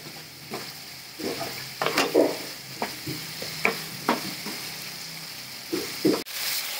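Green chillies and yogurt are stirred in a hot pan, with irregular spoon scrapes and taps over a soft continuous sizzle, heard close.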